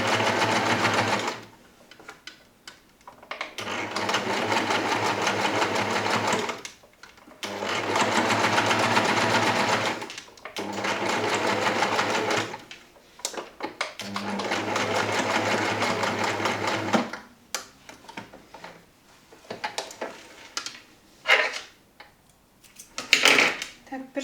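A sewing machine stitches a fly zipper with a concealed closure, its fast mechanical hum running loud and close in several long bursts separated by short pauses, ending in shorter stops and handling clicks while a voice speaks between runs.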